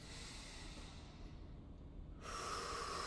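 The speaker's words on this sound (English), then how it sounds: "I'm just breathing and relaxing into it" During a lower-body static stretch, someone breathes slowly and faintly through the nose. The soft, close breaths run on with no speech over them.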